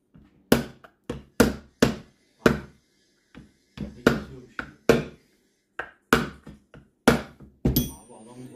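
A series of sharp, hard knocks on ski boot heel plastic to mark holes, about fifteen, struck at an uneven pace with brief pauses between, loud and close with no talking.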